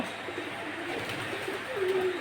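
Pigeons cooing on a small cattle farm of Holstein Friesian, Sahiwal and crossbred cows, a low repeated coo rising toward the end over steady background noise.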